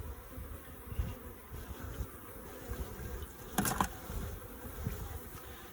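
Honeybees at a hive with a quart jar feeder of sugar syrup, a steady close buzzing drone throughout with a brief louder swell midway as bees move near.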